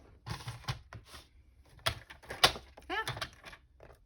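A paper file folder is cut in a few short snips and crunches spaced over several seconds, close and fairly quiet, with a faint voice briefly audible.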